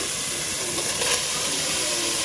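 Carrots for a chicken and vegetable samosa filling go into a hot frying pan, bringing a steady, loud sizzling hiss that holds evenly with no talking.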